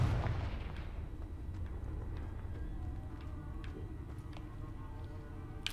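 A single loud Confringo blast spell detonates in Hogwarts Legacy, a deep booming burst at the start that rumbles away into a long fading tail dotted with faint crackles.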